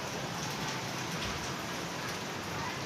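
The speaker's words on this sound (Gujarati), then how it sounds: "ચાલુ છે વરસાદ બહાર" Steady rain falls outside, a dense, even hiss of drops with no breaks and no voices.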